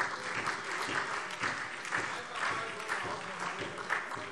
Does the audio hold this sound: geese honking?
no